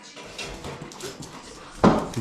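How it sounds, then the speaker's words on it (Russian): A dog whimpers and fusses at close range in a soft, irregular run of whines, ending in a louder burst of movement or a yelp. "Прокараулила меня, да, дурная собака?"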